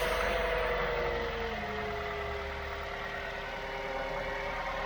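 A car engine idles steadily, a close, continuous low rumble with a faint rattly vibration and no talking.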